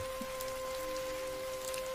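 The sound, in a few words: heavy rain falling outside, cartoon sound effect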